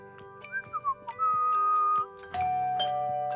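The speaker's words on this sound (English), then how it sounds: "Oh, that's the doorbell." A doorbell chimes clearly in a quiet indoor setting with a short series of bright, ringing melodic tones, each held briefly before the next.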